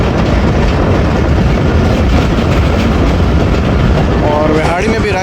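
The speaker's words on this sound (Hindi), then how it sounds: "बिहाड़ी पहुंच गई ट्रेन" The Baba Fareed Express pulls into Bihari station on a branch line, its loud rumbling wheels and carriages filling the platform steadily, with faint crowd voices and a brief high whistle-like tone near the end.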